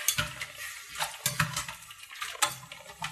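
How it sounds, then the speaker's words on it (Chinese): Yam, wood ear mushroom and red pepper are tipped into boiling water to blanch, giving several close splashy bursts and bubbling surges at a loose, irregular rhythm. "把山药、木耳、红椒倒入开水里边"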